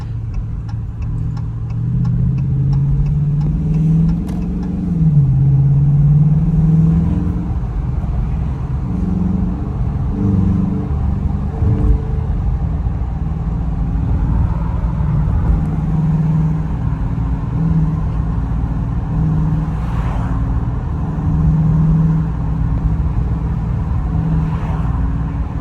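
A Dodge Challenger R/T engine drones low and steady from inside the car while driving, its pitch rising and falling a little with gentle throttle changes and a few small knocks, loud and continuous, with no talk.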